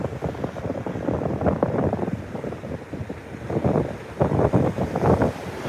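Strong wind from an approaching thunderstorm in Australia buffets the microphone with continuous low roaring gusts, rising and falling in loudness throughout.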